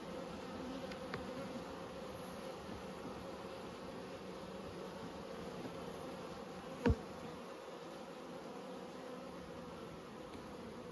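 At an open honey bee hive at Nymboida, a soft, constant buzzing drone carries on, with one sharp click or tap partway through and no talking.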